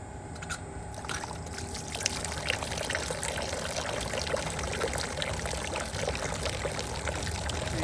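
Xylene cycles through the open cleanouts of a polyurea spray pump, a continuous pouring, trickling liquid flow under steady mechanical hum, close and even throughout with no talking.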